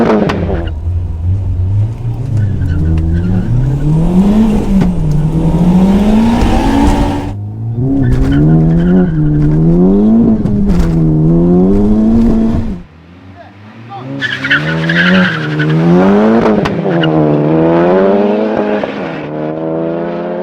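Two turbocharged Honda Civic Type Rs, a 440 hp turbo EP3 and a 430 hp Stage 2 FK8, drag racing: loud engine roars climbing through repeated rising revs and gear shifts, a brief drop, then another hard pull.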